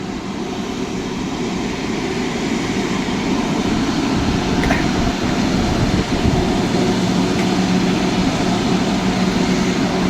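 A large international airliner waits near Mumbai airport at Kurla, its engines giving a loud, steady, continuous roar with no breaks.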